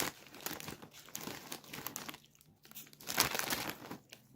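A plastic bag of Lulu Puffs snacks crinkles up close in repeated rustling bursts, with short crackling handling noises and no voices.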